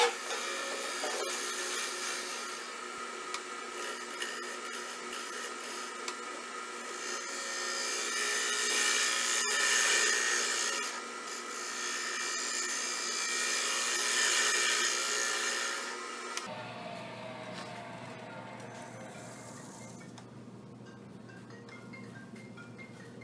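A gouge on a wood lathe trims the rim of a small turned bowl in a continuous hissing cut that swells and fades. The cutting gives way to a lower steady machine hum near the end.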